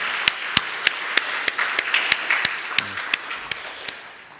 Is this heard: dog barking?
no